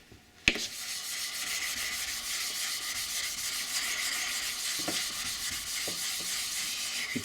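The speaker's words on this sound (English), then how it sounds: "I'll just use a lapping plate to bring these back into being flat." Sharpening stones, 1000 and 16,000 grit, are rubbed flat on a lapping plate, producing a continuous gritty scraping with faint rhythmic strokes after a single sharp knock at the start.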